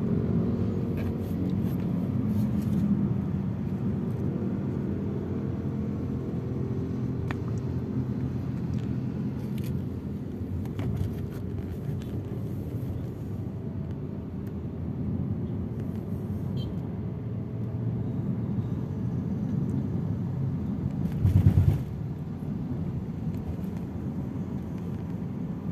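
Steady low rumble of a car cabin while driving, broad and constant throughout, with a few brief clicks and one short louder bump near the end.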